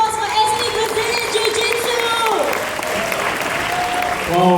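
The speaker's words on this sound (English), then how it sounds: "can we have a warm round of applause for SB Brazilian" An audience applauds after a Brazilian Jiu-Jitsu performance, a sustained wash of clapping and crowd noise with a tonal, whistle-like element riding over it throughout.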